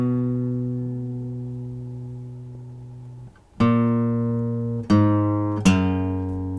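Guitar plays a descending walk-down with bass notes: a long ringing chord, then three fresh plucked strikes each left to decay, close and clear with no voices.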